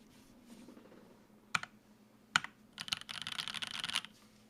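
A Monstargears Classic TKL keyboard with Oolong switches, TX stabilizers and GMK Birch keycaps is typed on up close. Two sharp isolated key clacks come first, then a quick dense burst of rapid typing.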